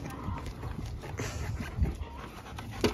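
A dog pants rapidly and steadily close by for a few seconds, with soft background noise and no talk.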